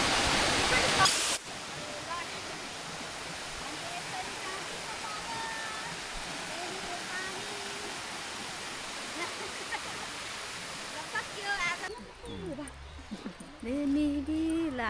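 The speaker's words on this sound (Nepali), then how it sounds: "यहाँबाट यसरी पानी बग्छ" A waterfall near a foot bridge on a hike rushes as steady, loud broadband water noise for most of the stretch, cut off near the end by handling noise and a bit of nearby talk.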